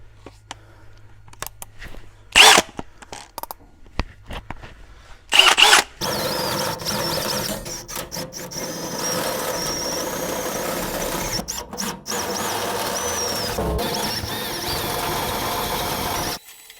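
A power drill whirs through metal drilling a 10.5 mm hole in a long steady run, with a few brief sharp bursts beforehand and quiet gaps between.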